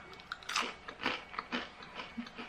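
Someone biting and chewing small baked crackers, with soft close crunches at an uneven pace and no speech.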